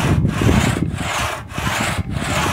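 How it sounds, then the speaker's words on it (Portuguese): An old, unsharpened two-man crosscut saw cuts through a wooden log by hand, rasping loudly and close in steady back-and-forth strokes with a brief pause at each change of direction. "Já está quase terminando de serrar o toco aí, ó. Um traçador que não nem amolado tá."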